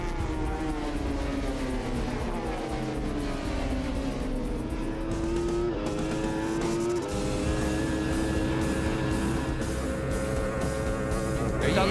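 Race motorcycles on the North West 200 road course, engines wailing and shifting pitch as they pass, a steady loud engine drone throughout with rising and falling tones, and a commentator talking over it.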